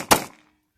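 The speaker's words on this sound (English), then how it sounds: "Bump fire." A single sharp shot from a BCA-10 firearm being bump fired, loud and close, with a brief ringing decay into silence.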